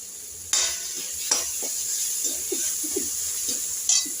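Spices being stir-fried in a pan for a cabbage bhaji make a soft continuous sizzle, broken by a few sharp scrapes and clinks of a spoon against the pan, close by and without talk.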